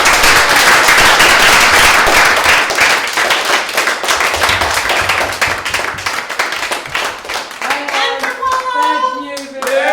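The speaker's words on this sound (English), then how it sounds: "Round of applause for each other in the crowd." A crowd at a live show breaks into a loud round of applause, dense clapping for about eight seconds that thins out before a voice starts speaking at the end.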